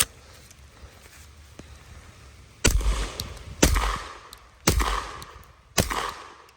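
A suppressed Flux Defense Raider MP17 fires four loud, spaced shots, each a sharp thump with a brief tail, over a quiet outdoor background.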